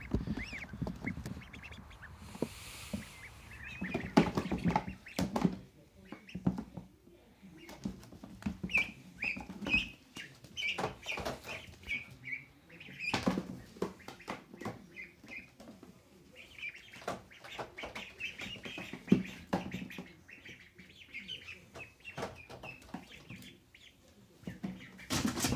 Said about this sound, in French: Et ils ont beaucoup piaillé pendant que je les attrapais.